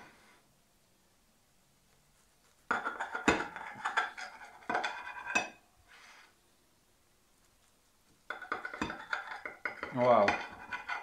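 Cutlery clinking and scraping against a dish while a slice of baked egg dish is cut, several bursts of metallic knocks and scrapes separated by short pauses.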